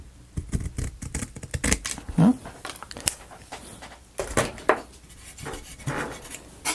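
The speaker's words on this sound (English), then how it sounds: "Another piece of sandpaper, and I'll actually cut a strip off of that" Scissors snipping a strip from a sheet of sandpaper for a book nook build; a few sharp, close cutting snips and rustles of handled paper, with light tapping in between.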